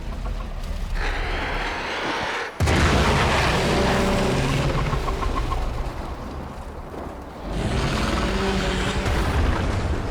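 A heavy explosion in Warframe: a loud, sustained roaring blast with a sharp crack partway through, dipping briefly before another rumbling surge.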